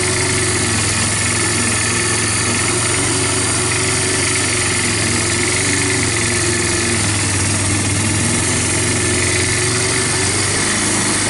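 A Bear Tracker 250 ATV engine with a PZ30 carburetor and no air filter idles steadily with a rough, breathy intake rumble and a faint mechanical buzz, running continuously without changes in speed.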